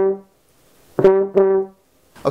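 A French horn plays short phrases alone, with a faint held note at the start and then two strong notes close together.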